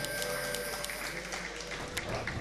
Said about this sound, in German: Da gibt es verhaltenen Applaus bis jetzt.